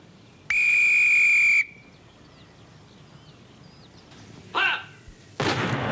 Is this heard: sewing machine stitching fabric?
no